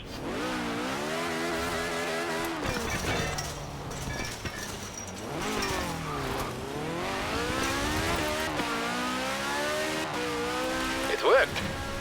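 A fiberglass Reliant Supervan in the video game Forza Horizon 4 revs and accelerates hard before launching airborne, its engine note rising and falling in repeated sweeps with a tire squeal near the end, while someone talks over it.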